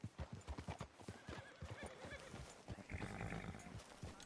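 A horse in the Red Dead video game clip-clops at a steady walking rhythm, with hooves close and distinct, and then snorts and whinnies briefly near the end.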